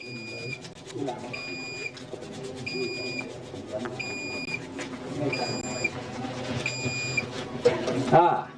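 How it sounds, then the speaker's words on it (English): A handwashing station's alarm gives short, high, even beeps at a steady pace of about one every second and a half. The beeps run right through the clip beneath continuous talking. "It also have the alarm system to prompt you"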